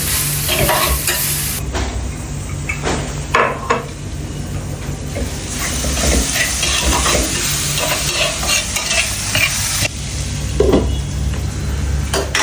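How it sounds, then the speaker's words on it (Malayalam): Small onions frying in hot oil for a beef dish, a loud continuous sizzle close up, broken by repeated clattering stirs and scrapes of a spatula against the pan. "ബീഫിന് എപ്പോഴും ഉള്ളി നല്ലപോലെ കരണ്ട് വരണം"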